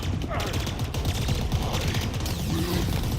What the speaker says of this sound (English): close range scrap cannon is frightening